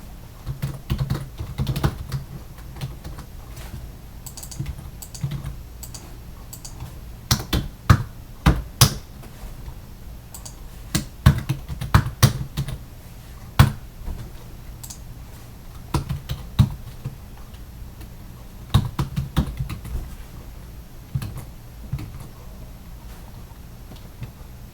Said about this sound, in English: Let me just focus on typing this out.